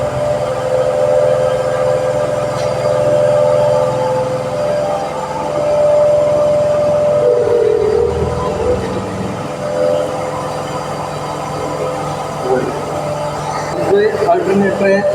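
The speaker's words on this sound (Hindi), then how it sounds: "डीसी वोल्टेज से इस डीसी मोटर को चलाएंगे 3 थे ये 3 पॉइंट स्टार्टर से, तो ये अल्टरनेटर" A DC motor started through a three-point starter drives an alternator as a motor-generator set, giving a steady mechanical hum with a tonal whine throughout, under some background sounds.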